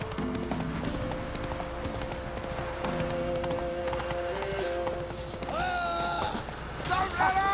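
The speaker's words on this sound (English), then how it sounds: "Jumped right off that horse." Horse hooves clip-clop in a steady rhythm in The Witcher 3 over a backdrop of game music, with a few louder tonal effects toward the end.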